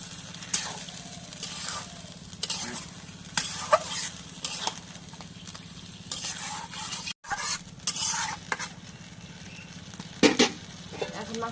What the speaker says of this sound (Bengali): এখন মশলাটা কষানো হয়ে গেছে, মাংসটা দিয়ে দিই।